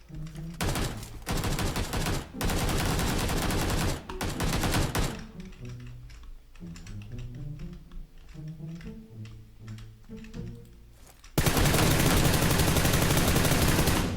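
Gunfire in the video game PUBG Lite comes as loud bursts of rapid automatic shots, broken by short pauses and a quieter stretch, then returns as a sustained, dense volley at the end.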